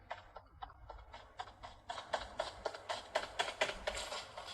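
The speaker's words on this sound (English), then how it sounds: "The footsteps move left, then right, giving a clear sense of spatial stereo sound." Footsteps in the mobile shooter Peacekeeper Elite, played through a phone speaker: a steady run of crisp, clicking steps, faint at first and growing louder and closer, with no talking.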